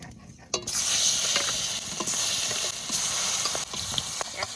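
Large magur fish dropped into hot mustard oil in a pan erupt into a loud, close hiss and crackle after a brief quiet start, the frying sizzle continuing steadily with small pops and scrapes.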